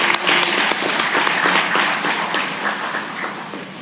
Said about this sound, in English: I want you to applaud their efforts, please.